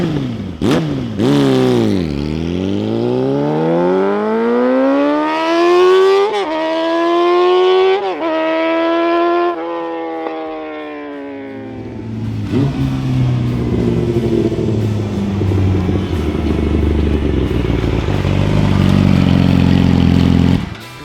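A 2007 Yamaha YZF R6 sport bike pulls away on a final ride, its engine climbing and falling through rising, sweeping revs before settling into a rough, rumbling exhaust drone, loud and close with no talk.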